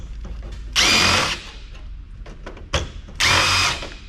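Power drill fitted with a socket bit backing screws out of an old computer case, giving two short, loud whirring bursts with a pause between them, close up and without speech.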